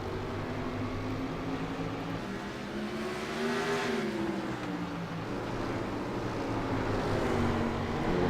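A pack of sprint cars racing at South Boston in the iRacing sim, engines droning in a dense layered roar with pitches rising and falling through the corner, steady and moderately loud, no talking over it.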